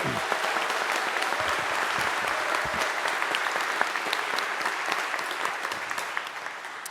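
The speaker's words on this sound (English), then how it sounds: "Huge round of applause." Sustained applause from the audience at a University of Greenwich graduation ceremony held in a chapel fills the space with steady, dense clapping that fades slightly toward the end.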